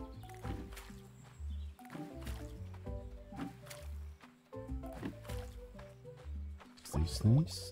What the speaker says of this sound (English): I think I'm just gonna water first.